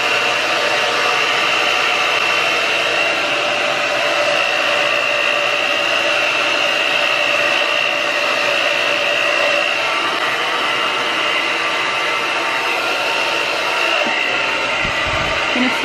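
A Black Diamond Professional hair dryer runs on its low heat setting, giving a steady, close whooshing hum of blowing air that stays even throughout, with no talking.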